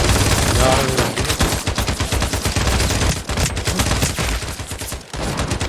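Automatic gunfire in the Turkish shooter game Sabotaj: dense, rapid machine-gun bursts rattling almost without pause, loud and close, with brief gaps between volleys.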